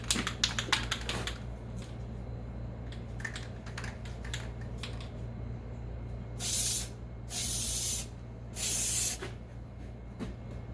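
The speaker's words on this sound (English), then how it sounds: "we're going to go to the trouble of spraying our edges so we can fold this over" Short hissing bursts of contact cement sprayed onto edges while building a car's false trunk floor, three longer blasts near the end, over a steady low hum with scattered light clicks and taps.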